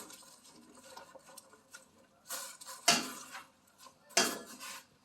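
Mulberry shoots dropped into a pot of boiling water, with clanking metal pot and utensil sounds, a couple of sharp knocks and a soft bubbling, watery wash underneath.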